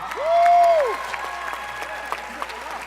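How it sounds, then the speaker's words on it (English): An audience at a conference session applauds sponsors, giving a brief, moderate spread of clapping under a sustained whistle-like tone. "Give them a big round of applause."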